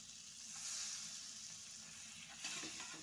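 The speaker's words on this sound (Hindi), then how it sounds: "थोड़ा थोड़ा करके हम इसको अच्छे से भून लेते हैं।" Flour roasting in melted butter in a pan for a white sauce pasta, a quiet continuous hissing sizzle with faint scraping of stirring, soft and steady throughout.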